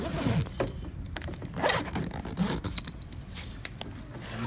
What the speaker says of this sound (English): I'll zip this little sucker up.